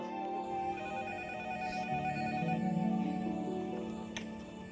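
Telephone ringing in a house, a steady electronic ring with sustained tones heard clearly and fairly loud throughout, with no speech.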